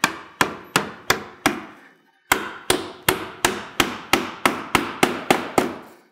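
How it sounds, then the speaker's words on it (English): Hammer blows drive a face nail into wooden roof fascia near a fly rafter: about five sharp, ringing strikes, a short pause, then roughly ten more evenly spaced hits, close and loud with no talking. "is go ahead and put a face nail in here"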